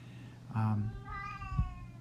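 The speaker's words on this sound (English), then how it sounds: "that's my cat in the background just making noise" A cat meows once, clear and drawn out, then again in a higher, wavering cry, close by against a quiet background.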